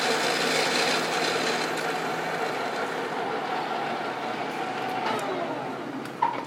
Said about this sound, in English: Rapid traverse of the cross slide.